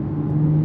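Porsche Macan S engine with its 7-speed PDK gearbox, heard as a brief, steady mid-pitched engine drone with a faint whir and no talking.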